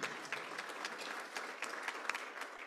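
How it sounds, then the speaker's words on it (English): A room full of people applauds themselves at an organization's gathering, a soft, even patter of many hands clapping without a break. "give yourselves a round of applause."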